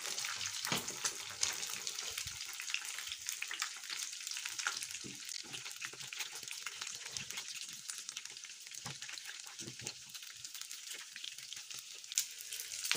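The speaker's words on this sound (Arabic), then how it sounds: "ونقلي بقى غيره" Asban sausages for a Ramadan meal fry in hot oil, a continuous crackling sizzle with scattered sharper pops and spatters, fairly quiet and close, with no voices.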